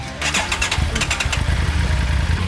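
A motorcycle fitted with a top box, about to be ridden from Puerto Princesa International Airport in Palawan, starts and then runs with a steady, loud, close mid-pitched engine rumble.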